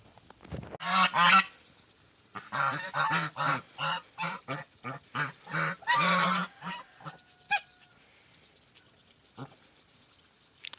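Geese honk in a rapid series of loud, nasal calls, fairly close, then trail off into a few scattered quieter honks, in a village yard.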